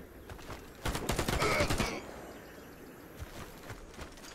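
A short volley of automatic gunfire from the video game Warface rattles out as a rapid string of shots at moderate distance, surrounded by quieter background noise and muffled voices.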